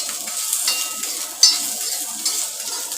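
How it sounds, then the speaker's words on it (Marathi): Ginger and garlic roast in a pan for a Malvani-style onion-coconut paste, giving a soft continuous sizzle with occasional scrapes and light clinks of a utensil stirring against the pan. "आणि आलं लसूण भाजून घ्यायचं."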